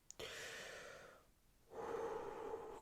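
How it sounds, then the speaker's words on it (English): A deep breath drawn in and let out during a medical roleplay exam with latex gloves, close and soft, a long inhale, a brief pause, then a slow exhale. "Deep breath in and out."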